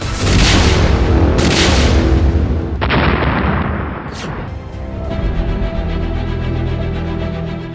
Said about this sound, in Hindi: एक और धमाका।